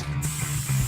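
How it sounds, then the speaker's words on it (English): Spray adhesive hisses from an aerosol can onto a car headliner board during a sagging-headliner repair on a Holden Commodore VS, one short continuous close spray. "Coat the area with spray adhesive."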